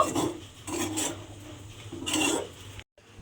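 Cooked semolina dough is scraped and poured out of a pan to cool, giving repeated rough rubbing and scraping strokes of moderate loudness, close by, broken by a brief silence near the end.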